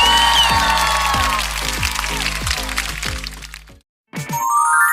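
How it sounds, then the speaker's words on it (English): Short canned round of applause with crowd cheering, loud at first then thinning into sparse sharp claps, cutting to silence before a bright chime sound begins. "let's give ourselves a round of applause"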